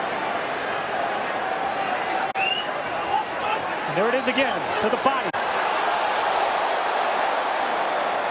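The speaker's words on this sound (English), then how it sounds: "This crowd has come alive" A boxing arena crowd at a Canelo Alvarez fight against Billy Joe Saunders swells into a steady roar under a ringside commentator's voice, with sharper shouts rising briefly midway.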